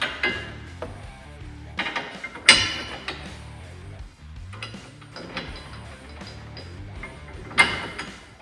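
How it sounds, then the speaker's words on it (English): Metal clicks and ratcheting from a 13mm wrench snugging clamp bolts and nuts onto the ROPS of a Polaris RZR Trail S 1000 rear brush guard, coming in short close bursts with sharper clanks at intervals. "You will be needing a size 13mm wrench in order to snug everything up."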